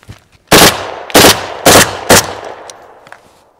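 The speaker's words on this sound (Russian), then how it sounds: "Правильно, отсечка по два выстрела." A Kalashnikov AK-203 / AK-103-3 assault rifle fires two-round bursts outdoors: four loud, close reports in two quick pairs, each followed by a short echo that fades into a long tail.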